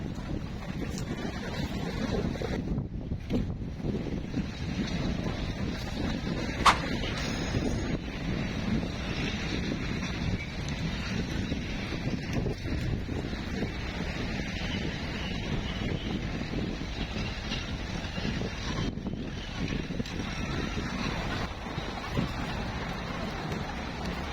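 Wind and rain sweep across an outdoor fishing spot, a steady, rough broadband rush buffeting the microphone for the whole stretch with no voices.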